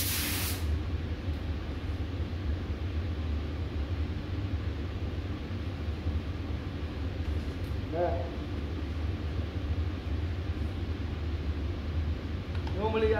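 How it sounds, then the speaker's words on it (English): A steady, loud hiss of a spray gun spraying a silver paint blend onto a door runs continuously, with brief faint background noises now and then. "now I spray the blend in the door"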